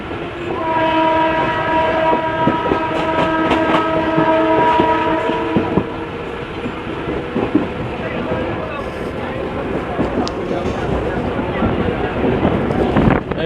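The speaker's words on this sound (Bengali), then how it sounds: "ট্রেনটা হর্ন দিয়েছে এবার ছেড়ে দেবে ট্রেনটা" A loud, sustained train horn blares for several seconds, then gives way to the heavy rumble and clatter of a train pulling away, on the Sealdah to Taki Road line.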